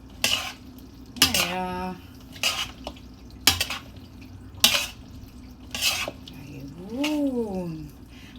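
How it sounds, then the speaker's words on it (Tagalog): Macaroni fruit salad being mixed in a bowl, with scraping, clinking utensil strokes against the bowl in uneven bursts, close by, while a person speaks briefly over it. "Haluin natin yan, guys."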